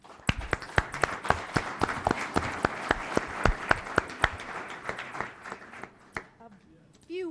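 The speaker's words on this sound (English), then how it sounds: "Let's give them a round of applause." Audience applause for the sponsors at an evening cloud computing event, dense clapping from a crowd that holds steady for about six seconds, then thins and stops.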